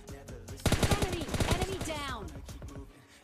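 Rapid automatic gunfire rattles in PUBG Mobile Lite as an enemy is knocked down, a loud burst of sharp evenly spaced shots that a voice talks over.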